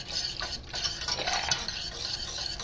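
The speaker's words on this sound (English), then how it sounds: "So I'm going to be going ahead and stirring this." White sauce with carrots and onions being stirred in a pot, a steady close scraping and swishing of a spoon against the pan with faint sizzling underneath, continuous and alone without talk.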